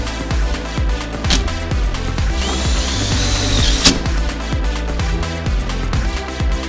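A power drill drives a self-tapping screw into a support block beneath a 6-foot panel, its motor whirring steadily and rising into a higher whine midway, loud and close.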